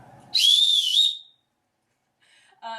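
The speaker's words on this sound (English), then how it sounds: "you will have your whistle, which is really loud." A lifeguard's whistle gives one sharp, piercing blast lasting under a second, loud and close, followed by quiet and a brief snippet of voice at the end.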